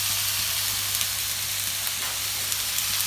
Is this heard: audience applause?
no